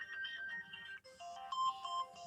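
Samsung Galaxy S2 ringtone on Android 4.0.3: a bright electronic melody of short synthesized tones stepping up and down in quick phrases, clear and alone without speech.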